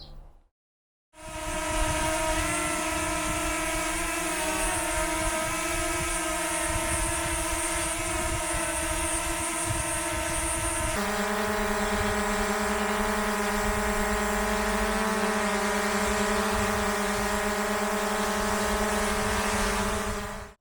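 A steady, high-pitched buzzing whine of a DJI Mavic drone's propellers in a field. Partway through, the tone shifts to a second DJI Mavic drone's hum that is just as constant and loud.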